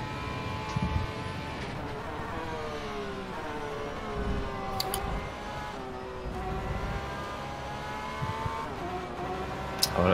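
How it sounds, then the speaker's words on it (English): A faster prototype race car closes in during an rFactor 2 multiclass sim race at Spa, its engine whine rising and falling through gear changes over a steady drone of the player's own car, with no speech. "There's a faster car approaching."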